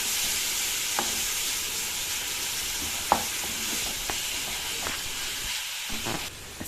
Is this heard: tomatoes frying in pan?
yes